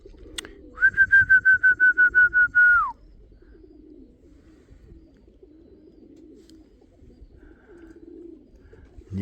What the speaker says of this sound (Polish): Ten gołąb idzie tutaj na mnie.